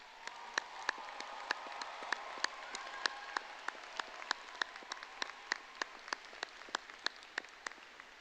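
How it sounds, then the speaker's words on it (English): A large audience at a university undergraduate graduation ceremony applauds the graduates, with steady, dense clapping and a few sharper individual claps throughout. It sounds somewhat distant and even. "how about one more round of applause for all of our graduates this morning?"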